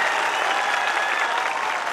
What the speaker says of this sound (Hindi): जिस जिसको मेरी आवाज आ रही है एक बार मुझे तालियों की गड़गड़ाहट से बताए कि मैं शुरू करूं